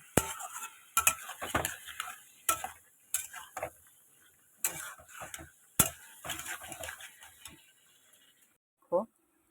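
Eggplant and potato being sautéed in a pan, with irregular scraping and clinking of a spatula against the metal in bursts, close by, under intermittent talk.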